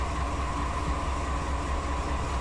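A 15,000-ton grain train in Run 8 Train Simulator descends the Tehachapi mountain grade in rain at dusk, giving a continuous heavy rumble with a steady droning tone and no break.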